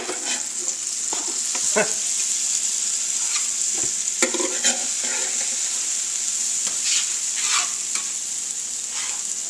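Grilled cheese sandwiches fry in a pan, a steady close hissing sizzle with a few brief scrapes and clicks as they are moved.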